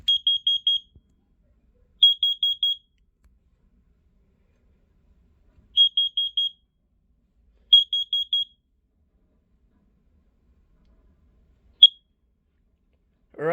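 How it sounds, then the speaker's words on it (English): A carbon monoxide alarm sounds during a test, giving sharp high electronic beeps in quick groups of four, repeated several times with silent gaps, then a single chirp, loud and close in a quiet room. "Now let's go ahead and move on to the carbon monoxide alarms."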